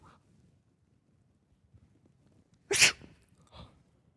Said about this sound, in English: Okay, that was a fake sneeze.